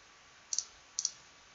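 Two quick double mouse clicks in Chessbase chess software, each a crisp pair of close taps, spaced about half a second apart against quiet background hiss.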